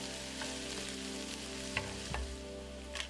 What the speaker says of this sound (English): When the oil is hot, fry the garlic and ginger together until they turn slightly brown.